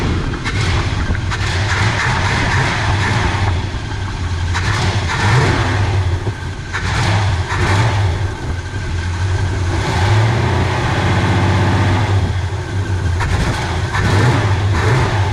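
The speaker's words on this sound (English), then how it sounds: "let's check for slippage when we rev the throttle." A 1978 El Camino engine revving with its air conditioning compressor clutch engaged, a loud, close, continuous rumble that rises and falls through several throttle blips.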